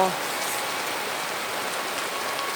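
Steady evening rain falls in a dense, even hiss, close and continuous, with a brief voice at the very start.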